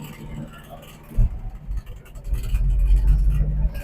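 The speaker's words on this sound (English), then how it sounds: "we're driving in a 61 Volkswagen. Third gear." A 1961 Volkswagen Beetle driving in third gear, its low engine rumble building steadily inside the cabin, with people talking over it.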